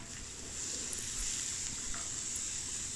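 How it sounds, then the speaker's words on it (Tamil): Onion and green chili sautéing in oil for a bottle gourd milk kootu, a steady soft sizzle that holds evenly for the whole stretch with no talking. "இந்த எண்ணெயில் நான் வெங்காயம் பச்சை மிளகாய் போட்டு வதக்கிக்கிறேன்."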